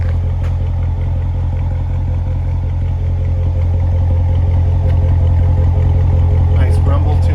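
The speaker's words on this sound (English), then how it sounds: "We'll have a listen to the exhaust." A 2016 Chevrolet Corvette Stingray's deep, steady exhaust rumble idles close by, low and throaty, holding constant throughout with a faint rise near the end.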